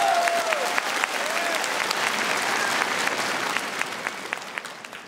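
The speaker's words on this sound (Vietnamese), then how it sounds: "Cho những người mẫu của chúng tôi một tràng pháo tay" An audience at a fashion show applauds the models and designer Đinh Anh Thơ, sustained crowd clapping that carries on evenly and then thins toward the end, with a brief whistle-like tone near the start.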